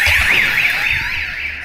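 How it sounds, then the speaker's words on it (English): A door alarm set off by opening a door in Rio de Janeiro, a loud warbling electronic siren that sweeps up and down in pitch, close and continuous. "just to go outside, like the alarm is crazy"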